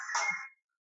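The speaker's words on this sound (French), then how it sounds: "Mon téléphone sonne." A mobile phone ringtone plays a short, bright electronic burst of about half a second, alone and fairly quiet, then cuts to silence.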